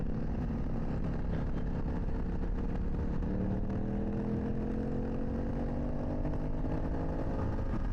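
A motorcycle accelerates along a canyon road, its engine a loud, continuous close drone with rising pitch as it pulls harder, wind noise mixed in.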